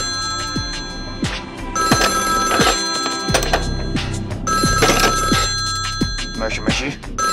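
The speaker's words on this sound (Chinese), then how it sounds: "陈重趁上山博野出去的空隙接到电话。" A telephone bell rings repeatedly and insistently in a TV drama scene, its metallic trills filling the space over other background sound.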